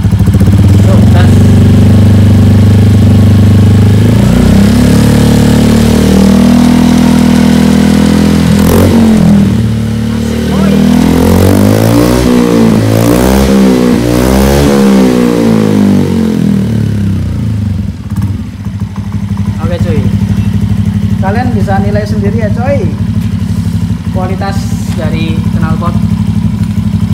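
A Beat 2020 motorcycle with an aftermarket Nmax exhaust idles loudly, then revs up in repeated rising and falling sweeps before settling back to a rough idle, with a voice talking briefly.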